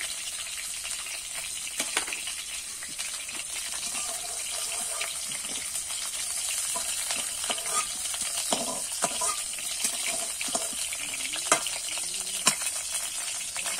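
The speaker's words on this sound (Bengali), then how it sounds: "এবারে কিন্তু ফুলকপিগুলো লাল লাল করে ভেজে নেব।" Cauliflower florets fry in hot oil in a wok, giving a steady, hissing sizzle with scattered crackles and pops throughout, fairly faint and continuous, with no talking.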